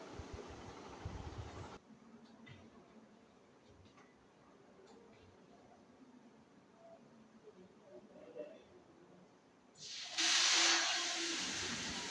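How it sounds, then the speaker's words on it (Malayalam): Appam batter on a hot appachatti pan hisses and steams: a short hiss opens, then a quieter stretch, and a loud, steady, close sizzle rises from about ten seconds to the end. "നമുക്ക് അപ്പങ്ങൾ ഓരോന്ന് ഓരോന്നായിട്ട് ചുട്ടെടുക്കാം"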